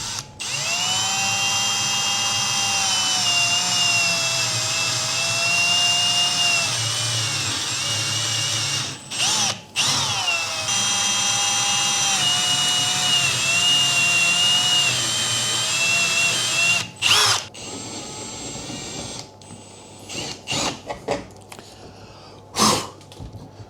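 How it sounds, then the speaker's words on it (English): A step drill bit boring holes through the metal side of a fridge being converted into a kegerator: a loud, sustained power-drill whine with shifting pitch, broken by brief pauses and short bursts near the end. "so that's both our holes drilled in this side."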